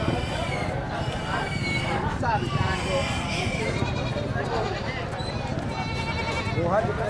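Goats bleat repeatedly in the goat section of a busy livestock market, their calls rising over steady crowd noise and nearby voices talking throughout.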